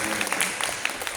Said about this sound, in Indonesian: Beri tepuk tangan untuk Kota Magelang.